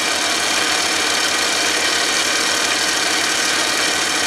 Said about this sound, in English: This lathe runs real quietly, doesn't it?